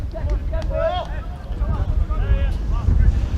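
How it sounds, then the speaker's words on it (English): Strong wind buffets the microphone at a football match between Cardiff Met University and The New Saints, a steady low rumble running under continuous commentary talk. "And it is quite windy now."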